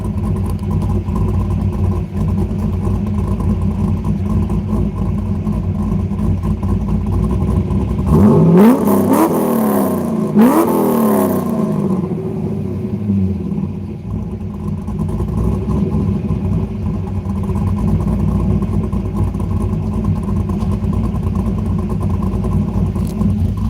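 A Chevrolet C5 Corvette engine rumbles steadily nearby, then revs hard in two rising bursts around the middle before settling back to a loud idle rumble, with no talking.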